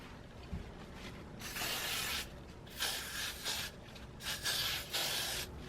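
Got To Be hairspray hisses in several short bursts onto a wig's frontal hairline, close and fairly quiet, with brief pauses between sprays.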